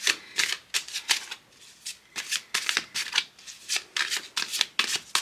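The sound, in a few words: shuffling a tarot card deck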